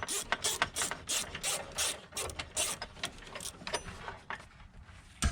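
A ratchet loosens the battery hold-down bolts on a Subaru Crosstrek, giving rapid, close, metallic clicking bursts in quick succession with brief pauses between strokes.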